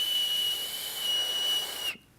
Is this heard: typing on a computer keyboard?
no